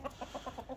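A hen with her black rooster and newly hatched chicks clucks in a quick, even series of about seven close, soft clucks with no talking.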